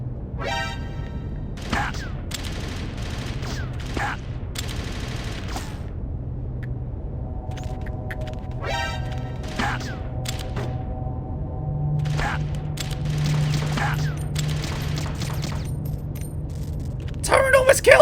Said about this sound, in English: That one gun turret alone almost killed me.